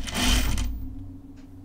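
A home sewing machine stitches a seam on a tunic, a loud steady whirring burst for the first half second that then cuts off, leaving a low motor hum and a faint click.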